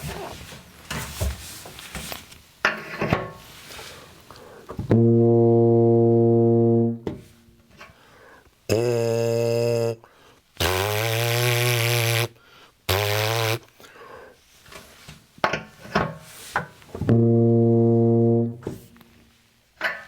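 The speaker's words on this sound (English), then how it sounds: "I use the wind from my lungs to cause my lips to vibrate" A trumpet player's loud, close lip buzzing in several sustained blasts, some steady and some wavering in pitch, separated by breaths and quiet handling noises.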